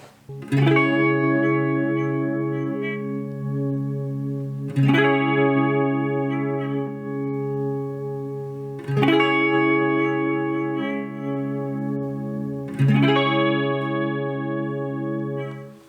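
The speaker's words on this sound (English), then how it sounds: "mainly I use the chorus" Guitar chords strummed through the chorus effect of a Marshall MG15FX amp, four sustained strums spaced evenly, each ringing out fully with a wavering, swirling tone.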